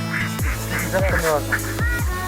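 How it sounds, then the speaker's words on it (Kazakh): Ducks at a mountain lake give several loud, nasal honking quacks in quick succession as someone tries to catch them, each call close and harsh against faint outdoor background. "Мұнда Мейірман үйректерді ұстап жатыр"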